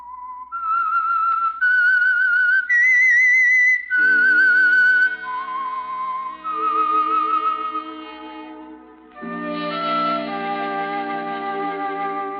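A clear whistled melody, the theme of 1940s radio drama The Whistler, rises step by step, then gives way to a lower, sustained musical passage with held tones.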